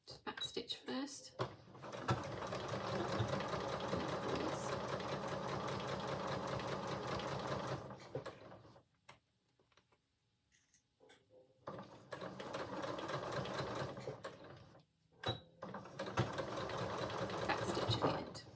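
Sewing machine back stitching a half-inch shoulder seam on a dress, whirring in long steady runs with a short pause midway, close and fairly quiet, with a voice talking over it.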